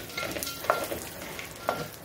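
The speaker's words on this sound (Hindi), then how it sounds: "इसको भी 2 मिनट अभी और भून कर लेंगे" Dry fruits for coconut laddu roasting in a pan, a steady close sizzle with faint stirring scrapes and two brief sharper clicks.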